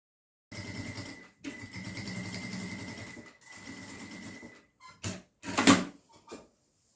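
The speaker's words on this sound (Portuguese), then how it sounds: "E vou fazer uma costurinha de pesponto nessa borda." A sewing machine topstitches along the edge of a bag in three short, quiet runs of buzzing stitches, followed by a few brief clicks and handling knocks.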